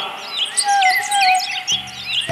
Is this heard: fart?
no